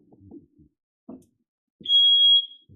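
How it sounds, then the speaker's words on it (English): A very sensitive household smoke alarm sounds one loud, steady high-pitched beep lasting about half a second, set between short bursts of someone talking nearby. "I got the most sensitive smoke alarm in the history of the world."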